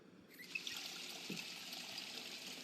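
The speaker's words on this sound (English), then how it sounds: "We're going to need to fill that water bottle up before we go." Water from a garage sink tap running into a water bottle, a steady faint trickle and pour with a few small splashes, heard alone and close.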